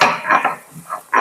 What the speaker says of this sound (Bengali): একটু শিলে আবার দিয়ে আমি একটু হালকা করে আবার একটু বেটে নিলাম